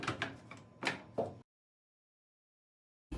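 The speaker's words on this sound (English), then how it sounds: "We are going to carefully open the door" Door of a GE laundry center dryer opening: a short run of clunks and rattles, then silence before a brief final knock.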